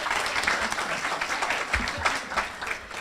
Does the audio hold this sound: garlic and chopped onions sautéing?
no